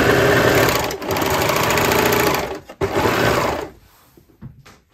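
An overlock sewing machine runs a skirt seam in a loud, steady mechanical whir, with a brief pause near the middle before it stops and falls quiet.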